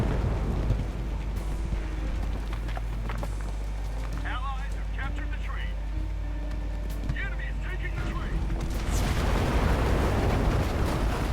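Explosions and heavy combat rumble in the World War II shooter game Enlisted, a continuous low roar with scattered blasts and a louder burst of noise near the end, while a player talks over it.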